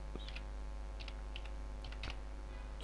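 Typing on a computer keyboard while editing in Notepad: a handful of soft, separate key clicks at an irregular pace over a low steady hum, close and quiet.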